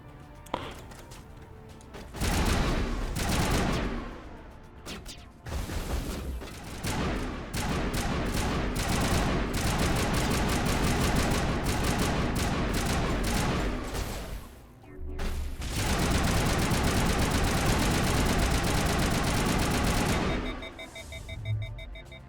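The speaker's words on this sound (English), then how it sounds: "У меня звуков выстрелов умирают наушники" Loud, close video-game gunfire rattles in long bursts of rapid automatic shots with a few short pauses, and it runs almost without a break, with a voice briefly heard between volleys.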